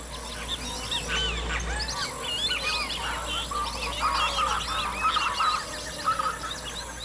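Large mixed flocks of wading birds, including storks, call together over lagoons and swamps on the Orinoco plains, a dense steady chorus of honks and squawks at a moderate distance with a low rumble underneath.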